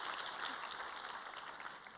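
A church congregation applauds together after a hymn, a soft, distant wash of many hands clapping evenly throughout and fading slightly toward the end.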